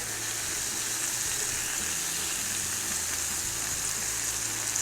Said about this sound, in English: All right, got those sizzling. Oh, I can smell the onions grilling.